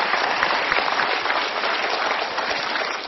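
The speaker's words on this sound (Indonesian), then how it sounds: "Kita berikan tepuk tangan dulu." Steady, dense applause from a large crowd, continuous and loud throughout with no pauses.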